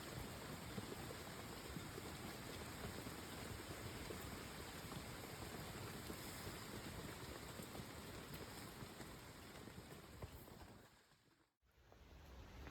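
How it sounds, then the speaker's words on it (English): Steady heavy rain pours down continuously on a woodland shelter, a dense hiss and patter that briefly drops away near the end before resuming. "the rain was pelting down all night"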